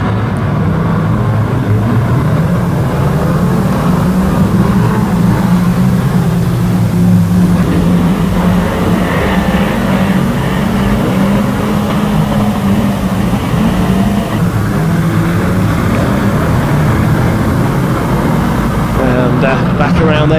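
Roar of F1 stock car engines racing on the last lap at a Kings Lynn oval meeting, a steady loud drone throughout with talk over it.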